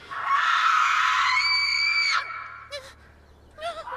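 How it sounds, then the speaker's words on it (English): A horrible, drawn-out scream in the woods, loud and shrill for about two seconds, followed by a couple of shorter fainter cries. "the sound of a horrible screaming and"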